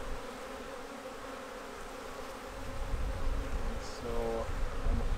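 Honey bees hum steadily around a laying worker hive, a dense continuous buzz close by that swells slightly louder toward the end.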